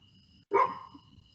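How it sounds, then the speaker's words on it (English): A dog out in the woods lets out a single sharp bark, fairly close, against an otherwise quiet background with a faint steady hum. "If that dog don't be quiet."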